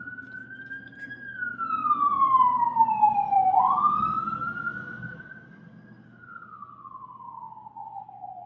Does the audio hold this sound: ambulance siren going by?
yes